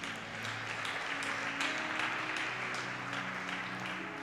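A church audience applauds in acclamation of Jesus Christ, with steady moderately loud clapping and cheering that fills the room throughout, under a faint tonal hum.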